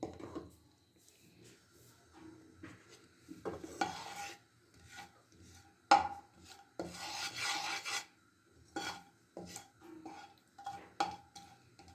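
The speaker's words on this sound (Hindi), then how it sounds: "थोड़ी सी इलायची को फ्राई कर लेंगे।" Cardamom pods frying in a pan give soft, intermittent scraping and rasping as a spoon stirs them against the metal, with light clinks and a faint sizzle, fairly quiet and close.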